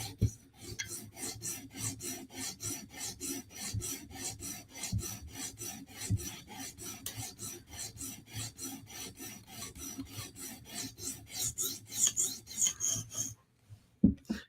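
An S90V steel Lil Native knife is sharpened on a TSProf Kadet guided sharpener, with quick, regular rasping strokes repeating in a steady rhythm, close and alone, then a brief pause and a light clink near the end.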